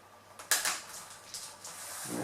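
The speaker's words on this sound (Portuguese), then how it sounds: "Agora você pode encaixar aqui o teclado." A replacement keyboard being pressed and snapped into a Dell Inspiron 14 N4050 laptop: a few quiet plastic clicks and taps, sparse and close, with no voices.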